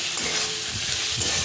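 Turmeric, Kashmiri red chili powder and tomato sizzle steadily in a hot pan for a Bengali green jackfruit and prawn dish, with a spatula stirring and scraping in close, continuous bursts.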